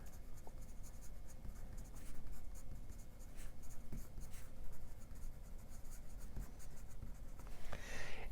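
Pen scratching across paper while momentum equations are written out for a physics problem, a steady close scribbling texture with short strokes and pauses, no talking.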